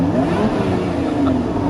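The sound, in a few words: Lotus Emira engine revving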